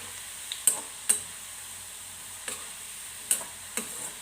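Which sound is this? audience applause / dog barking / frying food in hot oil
frying food in hot oil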